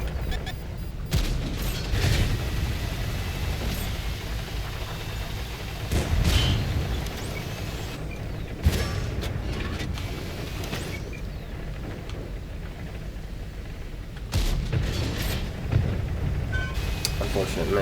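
Heavy tank cannon shots boom in a World of Tanks console match, several loud blasts at irregular intervals over a constant rumbling engine and battle bed, with someone talking throughout.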